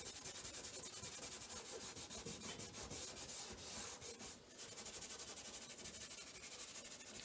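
Kneaded eraser rubbing and blending charcoal across drawing paper in a still-life gesture drawing, a steady close scratchy rasping that keeps up its back-and-forth strokes without pause, with no talk.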